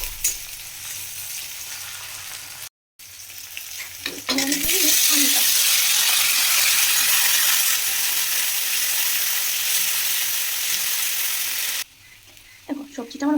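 Vegetables sizzle and crackle loudly in a hot pan for a long steady stretch, with occasional stirring scrapes, framed by quieter moments before and after the frying surges.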